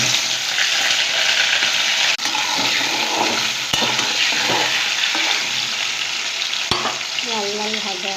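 Potato pieces frying in hot oil in a wok (kadai), a steady loud sizzle with crackling bursts and a few sharp clicks throughout.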